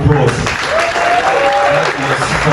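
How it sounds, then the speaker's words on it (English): Applause at a waste management fashion show, steady and dense for the whole stretch, with music or a sustained tone running underneath. "A bigger round of applause."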